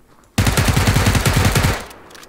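Automatic gunfire in PUBG rattles out in a fast, loud burst of around twenty close shots lasting over a second, then cuts off into a fading tail.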